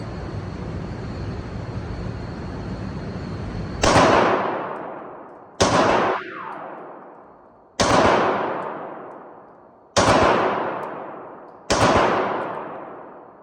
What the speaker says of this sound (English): I'll be shooting my Glock 19